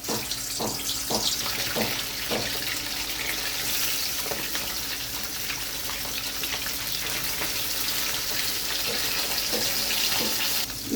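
Katla fish frying in hot mustard oil in a kadai, a steady dense sizzle and hiss with a few sharper crackles and spits, fairly loud and continuous with no talk.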